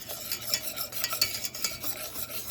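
A sweet mixture stirred continuously in a pan over medium heat, with rapid scraping and swishing strokes and a faint sizzle underneath, close and steady, without any speech.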